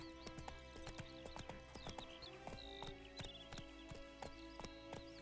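Roach the horse gallops in The Witcher 3, quick rhythmic hoofbeats clopping close and steady, with faint whinny-like tones over a low rumble.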